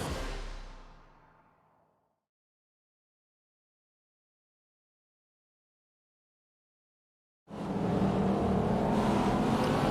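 Race cars in a racing video game, engines fading to silence after a brief tail, then a dense roaring burst as the pack launches off the start, loud and sustained.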